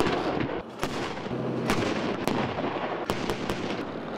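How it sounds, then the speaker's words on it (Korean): Cannon fire from K21 armored vehicles and a K2 tank during a Korean Army 11th Division crew-served weapons live-fire drill, heard as several sharp, loud reports over a steady rumbling background. "21 장갑차의 우렁찬 포사격 소리가 지축을 흔듭니다."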